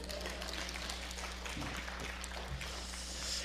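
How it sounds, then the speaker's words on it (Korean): A church congregation applauds faintly, the clapping reaching as a soft, diffuse wash of noise that lasts the whole short stretch. "박수 치려면 크게 한번 치세요"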